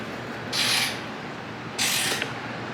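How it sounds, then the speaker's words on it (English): A hand ratchet works on the mud flap brackets of a 2023 Ford Bronco in two short, bright bursts of rapid clicking close by, with a quiet pause between them. "just getting ready to screw these on"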